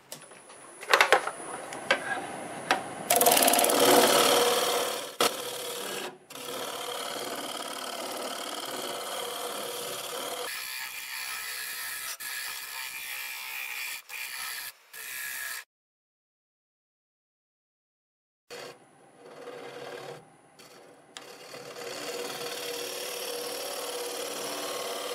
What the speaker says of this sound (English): I will use my negative rake scraper to finish cleaning up this area